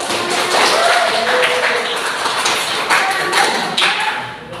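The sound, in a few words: classroom applause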